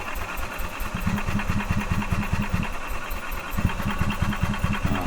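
A 2012 EZGO TXT gas golf cart with a Kawasaki engine cranks over without starting, a steady rapid low chugging pulse that runs continuously for several seconds with a brief stumble midway, close and fairly loud.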